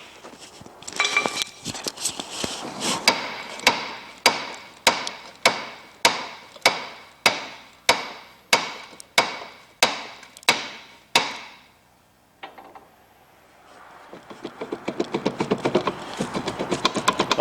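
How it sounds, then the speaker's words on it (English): A hammer tapping out a stub axle wheel bearing during a rear wheel bearing job in a garage: a run of about fifteen sharp metallic strikes at a steady rhythm, each ringing briefly, then a pause and some shuffling handling noise. "So I'm hoping just a few more taps of the hammer."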